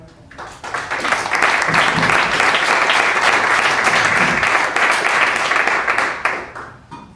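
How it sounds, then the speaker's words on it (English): An audience at a tech meetup talk breaks into warm, sustained applause for a speaker's welcome, rising quickly, holding full and close for several seconds, then tapering off. "So please join me in welcoming Dr. Noukhovitch."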